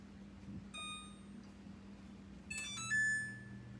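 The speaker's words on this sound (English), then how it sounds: "we're also going to go ahead and turn on our oven to 350 degrees" An oven's control panel gives a few short electronic beeps as it is set to 350 degrees, clear tones over a low steady kitchen hum, with no one speaking.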